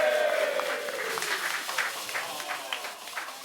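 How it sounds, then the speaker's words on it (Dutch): An audience in a Limburg carnival café applauds, the clapping at a moderate distance and gradually thinning as it fades, with faint voices underneath. "Met hoofdvaste applaus voor Leon, alsjeblieft."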